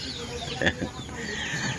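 A chicken clucks once, a short sharp call near the middle, heard over a steady outdoor background with faint talking nearby.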